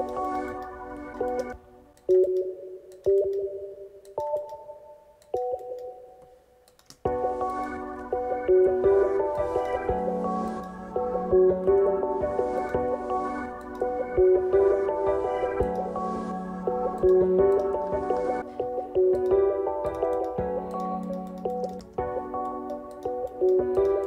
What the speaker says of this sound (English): Next, let's go to another Electro X sound that I chose out.